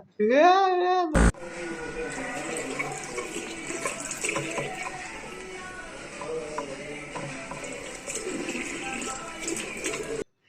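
Water runs steadily from a tap, splashing continuously at moderate volume, after a short wailing, tonal sound at the very start.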